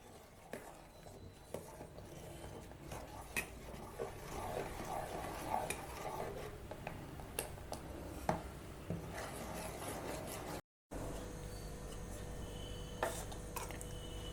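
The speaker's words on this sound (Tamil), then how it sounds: "லெமன் ஜூஸ் ஊத்தி நல்லா கரண்டி விட்டு கிளறி விடுங்க" A spoon scrapes and stirs steadily through boiling milk in a pan after lemon juice is added, giving soft repeated rubbing and scraping strokes with occasional clinks, close and alone.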